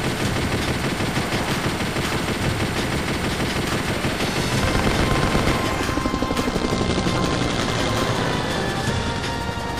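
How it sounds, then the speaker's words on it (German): Enemy helicopters in the Chase the Express video game, a dense continuous rotor drone mixed with rapid machine-gun fire throughout, loud and close with no voices. "Feindliche Helikopter fliegen davon."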